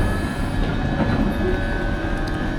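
A London Underground Northern Line train stands at the platform, its steady loud rumble and hum filling the station with faint rail clatter and no talk.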